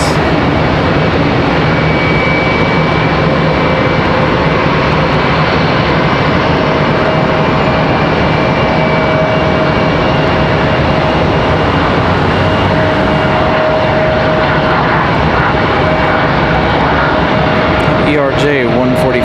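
A Piedmont Airlines ERJ-145 regional jet departing Charlotte airport gives off a loud, sustained engine roar with a faint steady whine running through it, continuous for nearly twenty seconds.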